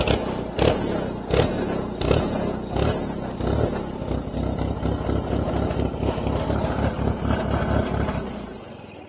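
An Allis Chalmers WD45 tractor engine cranks over in several spaced bursts, then catches and settles into a steady, close, rhythmic chugging idle, with no talking.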